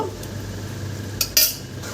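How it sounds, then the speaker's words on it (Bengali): A metal spoon clinks against a pot while ghee and garam masala go into jackfruit curry, two quick scraping knocks over a faint low hum, close and brief, no voices. "এবারে আমি ঘি দিয়ে আর গরম মশলা দিয়ে কিছুটা নেড়ে দেব"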